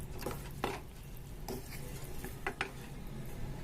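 A corn chaat mixture is stirred slowly in a pan: a soft, low hiss with a few scattered scrapes and light clicks of a spoon, quiet and close, with no voices.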